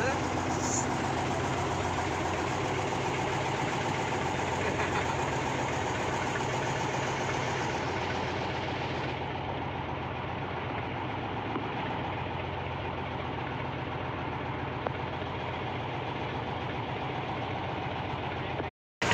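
A ship's engine runs at sea off Bawean Island in the Java Sea, a steady droning hum with low throbbing that holds evenly throughout and cuts off abruptly at the very end.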